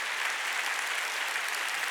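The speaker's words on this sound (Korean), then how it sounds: "박수 치려면 세게 치라고." Dense, steady applause from a church congregation at a Wednesday worship service, continuous and fairly loud throughout with no talking over it.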